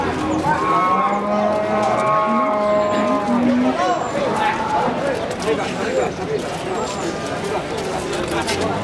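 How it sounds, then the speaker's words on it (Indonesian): Pegon cattle moo repeatedly at a busy outdoor cattle market in Pati, the long harmonic calls rising over constant crowd chatter and market bustle, with voices talking throughout. "Sapi ini galak ini guys."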